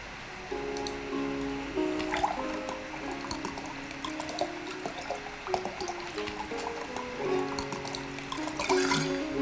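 A drink pours in a tavern in the card game Card Shark: a wet, gurgling stream fills a cup for several seconds, with soft drips and splashes over steady background music.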